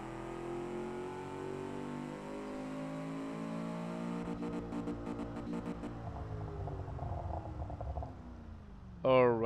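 A car engine in the Automation video game revs in a steady synthetic drone with rising and falling harmonics, fairly quiet, ending in a brief louder burst, alone without talk.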